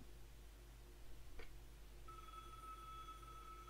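A telephone rings in the Broken Sword remake video game, a steady electronic ring tone that starts partway through and holds alone over a low hum, after a brief soft click.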